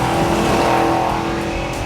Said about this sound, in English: TAs came stocked with side megaphone exhaust, letting the driver enjoy the rumble of that 340